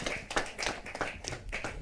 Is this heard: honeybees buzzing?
no